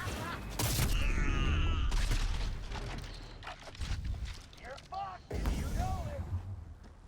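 Sniper and shotgun gunfire in the video game Cyberpunk, several loud sharp shots separated by brief gaps, mixed with mechanical game effects and someone talking over the action.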